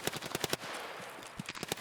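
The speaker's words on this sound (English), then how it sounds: "Wow, there's a lot of gunfire going on." Rapid bursts of automatic gunfire from the Escape From Tarkov shooter game (SPT Realism mod), a fast rattling volley, a brief pause of hiss, then another loud burst of shots.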